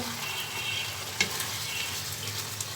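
Whole garlic cloves sizzle and fry steadily in a hot pan of oil while halim is being prepared, a close continuous crackle with one brief sharper pop near the middle.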